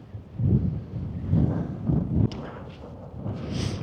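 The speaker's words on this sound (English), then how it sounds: "hopefully get out of the way of the wind, get a bit shelter" Wind gusting against the microphone on a mountain ridge walk in the Lake District fells near Grasmoor, low rumbling buffets rising and falling in waves, loud and close with no voices.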